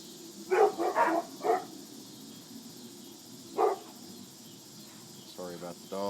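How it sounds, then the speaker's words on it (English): Dogs barking indoors while someone works on a paracord project: a quick burst of several sharp barks, then a single bark and a short yip-like whine, moderately near against a quiet background. "Sorry about the dogs."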